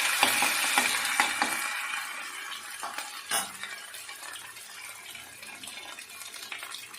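Dried red chilli, a bay leaf, white cumin and ginger paste frying in a pan for a vegetarian pickle, stirred steadily with scraping strokes and faint metallic clinks over a continuous soft sizzle, close and moderately loud, with no talking.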